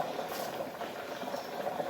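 Mor kuzhambu, a buttermilk curry tempered in coconut oil, bubbles steadily in a pot on the stove, a continuous soft simmering hiss with no voices.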